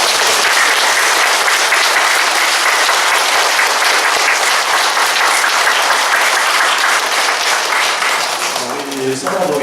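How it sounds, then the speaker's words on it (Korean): A church audience in a Catholic parish gives a loud, sustained round of applause after an Advent lecture by a bishop, dense clapping filling nearly ten seconds before it tapers off and a voice begins speaking at the end. "우리 다시 한번 큰 박수"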